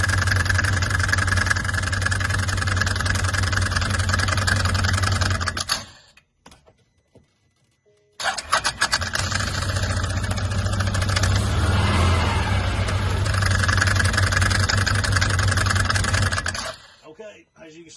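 A Can-Am Commander 800 side-by-side's engine idles loudly and steadily close by, cutting out briefly partway through, then resuming with the same constant rumble before stopping.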